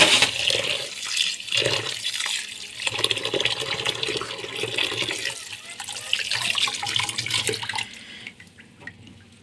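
Broken rice grains from polao rice are rinsed under running water, a continuous splashing and trickling stream with sloshing in a bowl that stops abruptly near the end.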